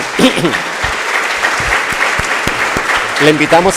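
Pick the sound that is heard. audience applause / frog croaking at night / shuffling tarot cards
audience applause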